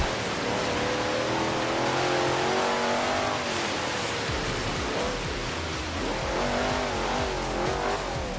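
A race car in Forza Horizon 3 revs hard on loose gravel and dirt, engine pitch rising and falling through gear changes with steady tyre and surface noise, close and loud, no talk.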